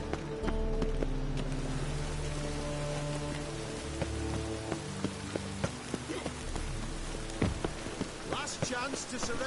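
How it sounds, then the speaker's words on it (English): Steady rain in The Witcher 3: Wild Hunt patters and hisses throughout, with faint sustained musical tones underneath and occasional sharp drip-like taps. "Looks like rain."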